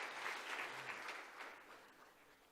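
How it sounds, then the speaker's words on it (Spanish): A church congregation breaks into applause during a Spanish-language service, a soft, distant wash of clapping that swells briefly and then fades. "Dile un aplauso a Dios"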